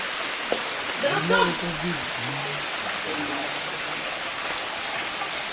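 Stream at a provincial resort, a constant soft rush of flowing water filling the background while a voice speaks briefly partway through.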